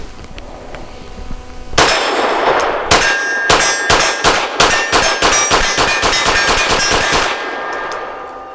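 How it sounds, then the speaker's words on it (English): Walther PDP 5-inch Compact pistol fired rapidly at a steel target, a quick string of sharp loud cracks each followed by a ringing metallic clang, close and continuous for several seconds after a brief quiet start. "as rapidly as I can, test this mag and gun combo with this ammo while also aiming at the steel"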